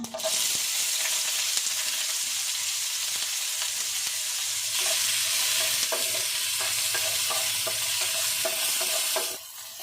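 Onion, green chili, curry leaves and chana dal sizzle steadily in hot oil for a potato fry, a dense continuous hiss with occasional stirring scrapes, with no talking.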